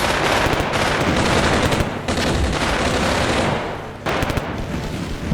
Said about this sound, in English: can see him firing HE into those buildings